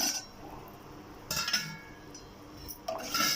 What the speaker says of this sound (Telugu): ఇందులోకి నేను మునక్కాడలను వేసేసుకుంటున్నానండి